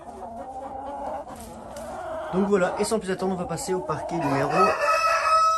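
A Brahma rooster clucks and then crows loudly nearby in a poultry pen, with other fowl audible and someone talking over it throughout.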